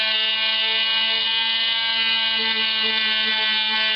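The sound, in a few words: high-powered Dremel tool buffing an Xbox 360 disc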